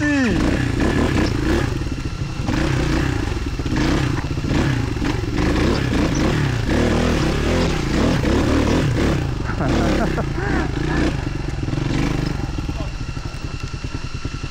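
A motorcycle engine runs steadily up close during a river crossing on a trail in Isabela, rumbling and straining, with rattling and scraping throughout and occasional voices underneath.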